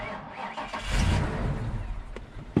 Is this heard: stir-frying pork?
no